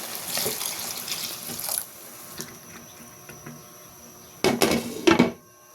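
Water is poured into a cooking pot of sweet potato for a bean, vegetable and fish soup. It comes as a steady close splashing rush at the start, then after a quieter gap two short, louder pours splash near the end.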